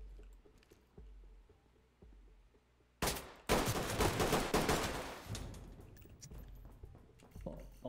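A flashbang goes off in a tactical video game on the Sullivan's Slope and Brisa Cove maps. After quiet ambience, a sudden loud, harsh blast rings out and crackles for about two seconds, then fades back to low background.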